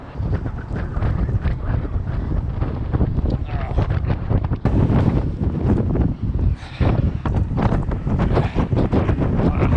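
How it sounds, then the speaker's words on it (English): Strong wind buffets the microphone in loud, roaring gusts that rise and fall continuously with no break. "Windy."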